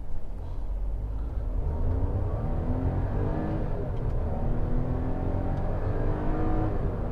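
2021 Hyundai i20 with a 1.0-litre turbo petrol engine, in drive with traction control off, accelerating hard. A steady, strong engine drone climbs smoothly in pitch, heard from inside the cabin with deep low rumble and no speech.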